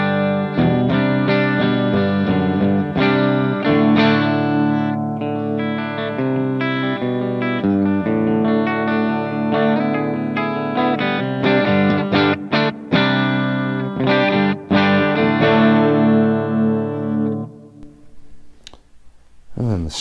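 A clean electric guitar played through a Greenback speaker impulse response rings out in a steady stream of chords and notes, loud and sustained, fading near the end.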